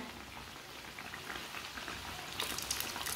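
Samosas frying in hot oil on a stove, a steady dense sizzle and bubbling that holds throughout and grows a little brighter and louder near the end, with no voices.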